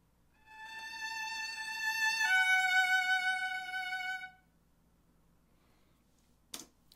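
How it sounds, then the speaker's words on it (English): A sampled solo violin from the LA Scoring Strings library plays legato in the high octave, a few sustained connected notes rising in loudness and then fading out. A brief knock follows after a pause. "So the second violin solo legato in the high octave."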